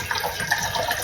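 Water poured into a drink while packing a child's lunch, a close, steady trickling and splashing pour lasting about a second, with no voices over it.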